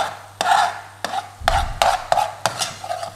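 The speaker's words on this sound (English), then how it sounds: "Stir that around, loosen up from the bottom." A spoon scraping and stirring Chicken Madras curry in a pan, roughly seven or eight distinct scraping strokes at an uneven rhythm, close and clear with no talking.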